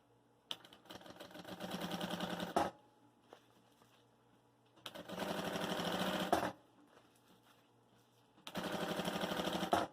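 Sewing machine topstitching a thermal cool bag with half a presser foot width, running in three sustained bursts of rapid stitching separated by quiet pauses, close and clear with no speech.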